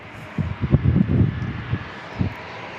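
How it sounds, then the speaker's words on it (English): An aircraft at San Diego International Airport, heard as a distant low engine rumble with fluctuating roar over steady background noise. "That was aircraft number 3."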